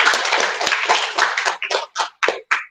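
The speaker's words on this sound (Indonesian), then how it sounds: "Oke, beri aplaus dulu buat kegiatan kita hari ini" Students applaud together in a classroom, a dense burst of clapping that thins into a few separate, sharp claps toward the end, close and fairly loud.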